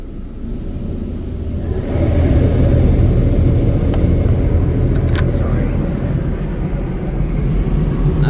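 A Washworld high-velocity car wash fires its undercarriage blast beneath a vehicle: a loud, low, rushing roar of spraying water that swells after a couple of seconds and then holds steady and close.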